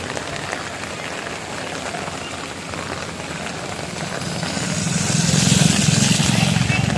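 Heavy monsoon rain in Mumbai pours steadily onto surfaces, a dense continuous hiss that swells louder toward the end, with faint distant traffic beneath it.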